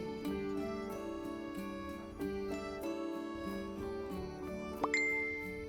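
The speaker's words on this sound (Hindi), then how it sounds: "तभी उसके फोन में एक नोटिफिकेशन आया।" A soft chiming tone rings out with a few gentle bell-like notes, quiet and clear against a calm background, ending with a brighter ding.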